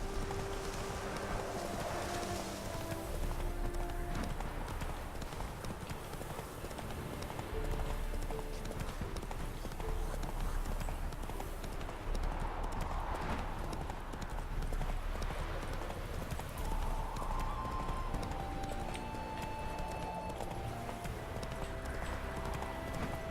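A horse galloping in The Witcher 3: Wild Hunt, steady rapid hoofbeats clip-clopping continuously over a bed of wind and ambient game sound, with some talk mixed in.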